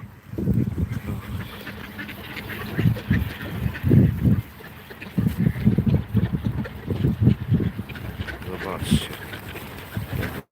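Ducks quack repeatedly in loud, close bursts, with short pauses between the groups of quacks.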